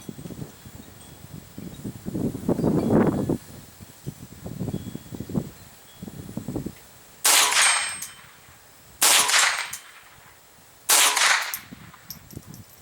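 .22 rifle shots fired at a target: three sharp, loud reports spaced about two seconds apart, preceded by quieter rustling and handling noises.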